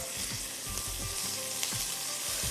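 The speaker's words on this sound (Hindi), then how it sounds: "अब इसमें अदरक लहसुन का पेस्ट, अच्छी तरह उसको भूनिएगा" Ginger garlic paste sizzles and crackles in hot oil, loud and close, with soft scraping strokes of a spoon stirring through it.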